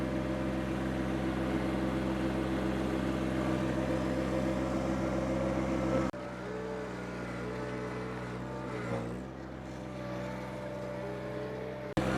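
Subcompact tractor moving dirt with a box blade and bucket, a steady engine drone held close and loud, dipping slightly partway through with small shifts in pitch as it works.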